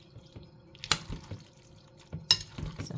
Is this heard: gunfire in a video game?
no